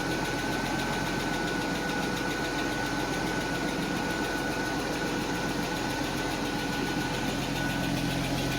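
A 1991 Mercedes 190E idles steadily with its exhaust note, a constant close-up rumble with no breaks or revs over the whole stretch.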